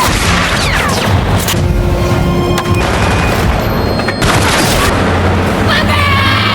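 Troops open fire in a film with heavy, continuous gunfire and deep booms, and a voice talks over the loud barrage throughout.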